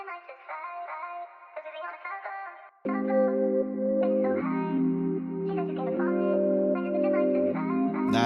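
A processed vocal sample in FL Studio plays with delay and reverb, at first thin and echoing alone, then joined by fuller, sustained layered tones for a dense, continuous passage.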